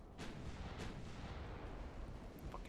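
Naval guns firing in the warship game Ultimate Admiral: Dreadnoughts, a couple of deep booming salvos over a constant low rumble of battle, heavy and distant-sounding with no voices.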